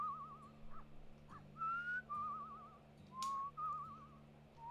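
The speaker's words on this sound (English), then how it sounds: "I'm focused on the whistling minigame" Melodic whistling in the Where the Water Tastes Like Wine video game whistling minigame, several short wavering whistled phrases with gaps between them, clear and alone over a faint steady hum.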